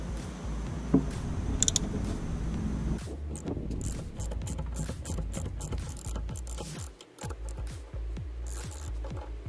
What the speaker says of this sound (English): Then loosen the 15mm nuts